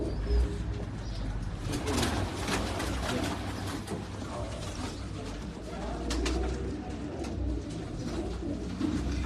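Pigeons cooing in a loft, soft repeated coos and chirps layered over a steady close ambience with a low background hum.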